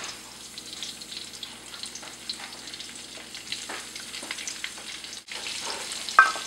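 Hot oil frying in a kadhai while stuffed okra is prepared, a continuous low sizzle with scattered stirring scrapes and a brief sharp clink near the end, close and quiet with no voices.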